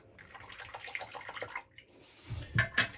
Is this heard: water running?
yes